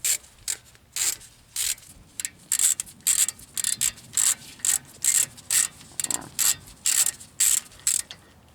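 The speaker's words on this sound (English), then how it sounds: "And then the two mounted caliper bolts. Let's remove those." A ratchet loosens brake caliper mounting bolts, with rapid repeated clicking bursts in an even rhythm, close and clear, and no talking.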